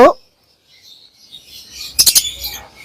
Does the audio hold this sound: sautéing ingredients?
no